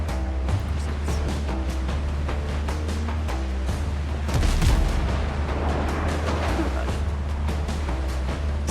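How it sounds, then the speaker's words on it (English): A big sailing ship fires cannons at the player in the Windrose pirate game, deep booms thudding out in a loud, rumbling barrage amid constant ocean and battle noise, while a player talks. "let me guess, the big ship is shooting at me"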